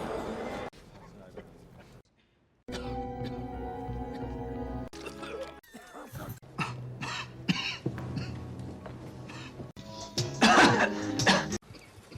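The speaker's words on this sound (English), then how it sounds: "Cough it out like you done before." Several short, harsh coughs and throat-clearing bursts from a film scene break up a noisy mix of voices and background sounds, with one louder cough near the end.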